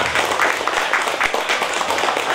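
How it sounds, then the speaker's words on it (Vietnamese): Wedding guests at a Vietnamese wedding ceremony give a loud, dense round of applause that continues without a break. "chào mừng quý vị một tràng pháo tay nữa"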